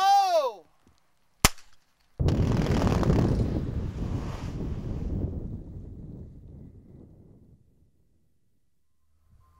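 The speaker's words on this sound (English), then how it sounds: "After all the pre-blast signals have been given and the blaster is confident the area is secure, the shot is detonated." A rock-blasting shot detonates at a work site, one sharp loud crack followed by a heavy rumbling roar that slowly fades over several seconds, preceded by a brief voice.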